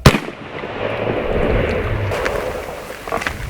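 A single loud shot from an AEA Zeus Gen 2 .72 caliber big bore air rifle, a sharp close blast at the start followed by a rushing outdoor decay.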